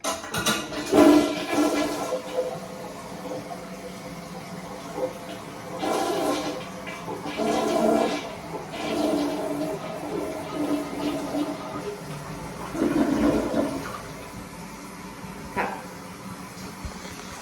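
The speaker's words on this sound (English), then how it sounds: "let's say you just flush the toilet" A household toilet flushes loudly, a roaring rush of water with several surges and refill gurgles over about seventeen seconds, with faint voices in the background.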